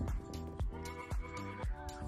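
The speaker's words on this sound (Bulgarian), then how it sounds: "Опа, пръчето се видя." A billy goat bleats outdoors in a series of four wavering, nasal calls at a moderate distance, each a short harmonic cry separated by brief pauses, with no talking over them.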